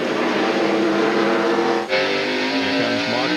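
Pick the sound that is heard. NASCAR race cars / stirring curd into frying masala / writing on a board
NASCAR race cars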